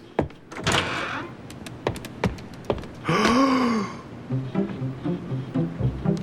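A door is opened to let a dog out in an animated holiday story, with several sharp thunks and clicks of the latch and door, a creaky sliding sweep in the middle, and a voice murmuring briefly near the end.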